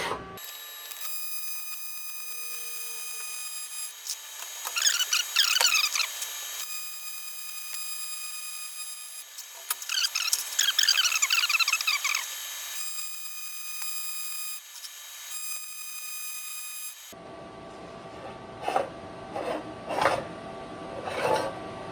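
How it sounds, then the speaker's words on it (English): Aluminum welding on a weld challenge kit, the arc crackling in two steady bursts of several seconds each over a constant electronic hum and tones, then fainter shop noise. "now that all 4 corners are welded"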